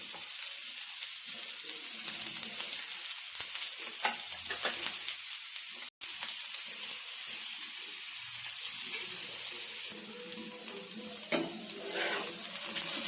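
Boiled potatoes fry in hot oil with a steady soft sizzle while a spoon scrapes and stirs them in the pan at intervals, with a brief quiet gap midway.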